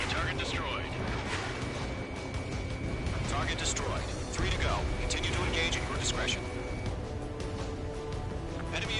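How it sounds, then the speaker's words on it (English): A missile launches in the Ace Combat 7 flight game as a loud, continuous roaring rush under a dense engine drone, with voices talking over it throughout. "Missile launched"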